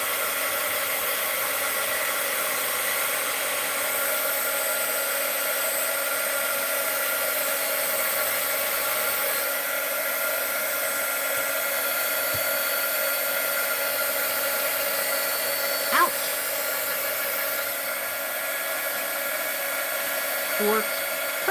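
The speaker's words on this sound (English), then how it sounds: "Well, let's do the heat gun on that label." Heat gun blowing to remove a label, a steady close whooshing hum that runs unbroken throughout, with a couple of faint knocks near the end.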